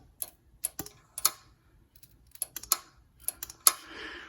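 The stop solenoid on a VW T4 Transporter TDI diesel engine, wired directly to the battery, gives a series of sharp, irregular clicks and taps, close and crisp against near silence.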